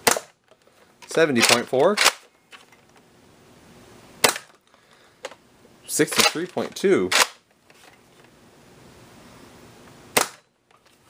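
A Nerf Sonic Ice Retaliator blaster fires foam darts in sharp, snappy bursts, several shots spaced a few seconds apart, each made up of quick clicking priming and firing pops, close up with a brief spoken number between shots.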